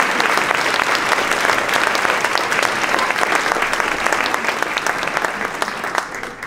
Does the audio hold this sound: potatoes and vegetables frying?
no